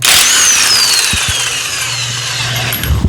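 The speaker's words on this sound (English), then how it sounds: "we're using the impact gun here" A pneumatic impact gun loosens a 24 millimeter bolt on a small block Ford engine, with a loud, close whirring hammer burst that sounds over a steady high whine for about three seconds.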